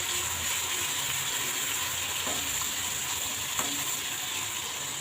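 Ginger garlic paste sautéing in a pan for lauki kofta curry, a steady close sizzle with faint occasional stirring scrapes and no talking.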